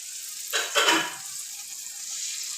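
An egg fries in a pan with a steady close sizzle and crackle, swelling briefly as it is pushed and stirred, with no voices.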